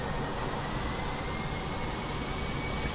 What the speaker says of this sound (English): Let's take a listen to the RJ as we throttle up to get out of here.